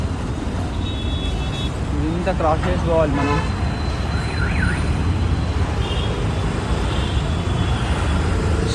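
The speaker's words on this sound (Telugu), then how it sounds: "ట్రాఫిక్ చాలా ఉంది." Heavy road traffic surrounds a rider on a Yulu Miracle electric bike, with a constant engine rumble and roar and several vehicle horn toots midway, while someone talks over it.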